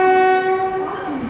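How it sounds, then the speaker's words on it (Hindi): Horn of the WAP7 electric locomotive hauling the Mumbai Amravati Superfast Express: a loud, sustained multi-tone blast that holds steady and then slides lower as it trails off. "तो आज हमारी ट्रेन को लीड कर रहा है अजनी लोको शेड का WAP7।"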